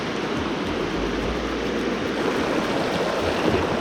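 Small rapids on Deep Creek, a wild mountain brook in the Smoky Mountains, rush in a steady broadband wash close by, with no voices over the churning water.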